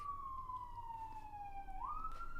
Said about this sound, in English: Look at this huge siren.